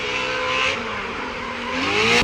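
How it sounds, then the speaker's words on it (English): A loud, close NASCAR Mopar Dodge V8 race engine revving, its pitch rising and falling as the throttle is worked, with a deep rumbling roar. "This is a NASCAR engine."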